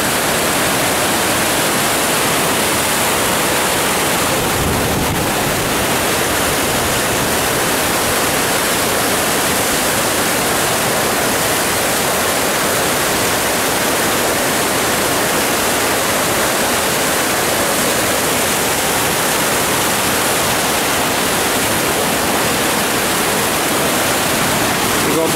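Floodwater from an overflowing creek rushes under a street bridge with flooded houses along its banks, a steady, dense roar of turbulent water that stays loud and unbroken throughout.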